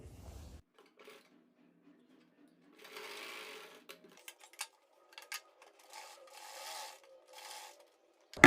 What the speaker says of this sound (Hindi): तो पहले हम अपनी कच्ची सिलाई कंप्लीट करते हैं।